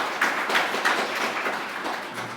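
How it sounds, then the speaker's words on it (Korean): An audience at an OWASP Seoul security seminar claps for a presenter, a dense, even round of applause that holds steady throughout. "그러면 다들 유쾌한 발표 해주신 희찬님한테 박수 한번 부탁드립니다"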